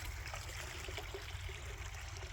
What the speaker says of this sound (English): and there's my waterfall.